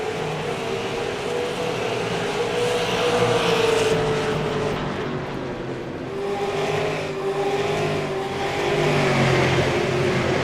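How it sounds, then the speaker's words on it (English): Race cars roar around Five Flags Speedway in an iRacing sim race, their engines a continuous loud drone with pitch swells as the cars pass and accelerate, with no talking over it. "Derek Kraus looking on the back bumper of the number 7 machine."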